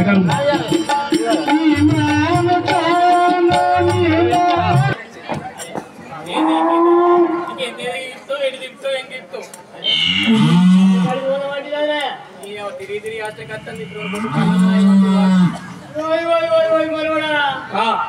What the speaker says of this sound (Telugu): అదే ఆవులు ఇక్కడనే ఉన్నాయి